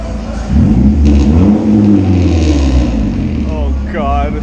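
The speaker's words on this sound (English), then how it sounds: "the stock exhaust is completely off. We're gonna hear it like straight pipe" A 2013 Honda Civic Si engine revving loudly with the stock exhaust removed, running straight pipe; a raw, rasping rumble swells and sweeps in pitch up close while voices talk over it.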